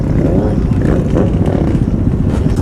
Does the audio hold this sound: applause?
no